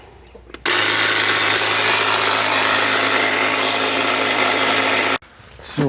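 A ProCraft LK30 cordless battery pump inflates a car tyre, its motor running as a loud, steady drone with a low hum for about four and a half seconds before cutting off abruptly; faint handling noise before and after.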